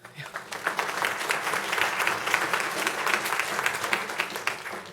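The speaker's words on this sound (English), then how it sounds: "Give him another round of applause." A city council meeting audience in Fayetteville breaks into applause, a crowd of hands clapping that swells quickly and stays dense and steady at moderate distance, with some voices mixed in.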